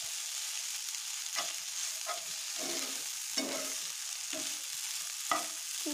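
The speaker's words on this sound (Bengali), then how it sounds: "খুব সুন্দরভাবে নাড়াচাড়া করে ভাজা ভাজা করে নিতে হবে" Food frying in a pan hisses continuously while a spatula scrapes and stirs it in repeated strokes about once a second, close up and with no voices.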